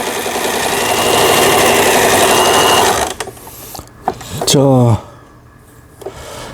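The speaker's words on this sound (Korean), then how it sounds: "아래실 위실 정상적으로 박음질 되고 있고요" A home sewing machine stitches with upper and bobbin thread, a loud, steady mechanical whir for about three seconds that then stops, followed by brief clicks and a short voice.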